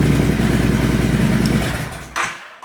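A motorcycle engine fitted with an air-fuel ratio gauge idles steadily and close by with a low, throbbing rumble, then cuts out near the end after a brief clatter.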